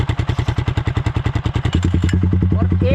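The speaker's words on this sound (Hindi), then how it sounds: "इसकी साउंड जो है वो बेसी हो गई है, एग्जॉस्ट नोट जो है वो चेंज हो गया है।" A Yamaha R15M motorcycle with the dB killer pulled from its exhaust, idling with a rapid, evenly pulsing throb that turns deeper and fuller partway through, close and loud.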